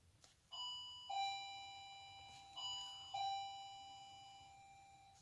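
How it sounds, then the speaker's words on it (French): A front-door doorbell rings twice, each a clear two-tone ding-dong chime with ringing decay, heard indoors at moderate distance in an otherwise quiet room. "vous avez entendu la sonnette de ma porte d'entrée"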